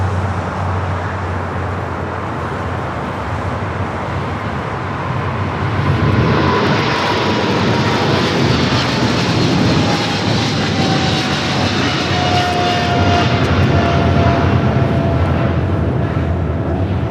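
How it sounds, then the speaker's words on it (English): A DHL Boeing 777 freighter operated by Singapore Airlines takes off from LAX toward Sydney. A loud, broad jet roar builds sharply after a quieter start and then holds powerful and sustained, with a faint whine sliding through it. "DHL operated by Singapore Airlines 7447 taking off to Sydney, Australia on the 777 freighter"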